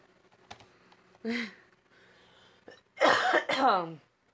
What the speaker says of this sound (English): Sorry for the cough